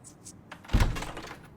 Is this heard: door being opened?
yes